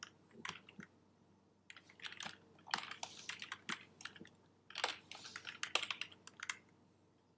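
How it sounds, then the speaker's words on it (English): Computer keyboard keys are pressed in irregular bursts of quiet, close clicks and taps while using TradingView charting software, with no talking over them. "If I hold down my Alt left right key, it just kind of cycles through."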